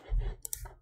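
Computer keyboard typing, a few quick keystroke clicks close to the microphone over a low background hum, with no talk.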